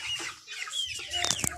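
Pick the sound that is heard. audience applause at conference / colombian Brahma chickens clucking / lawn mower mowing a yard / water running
colombian Brahma chickens clucking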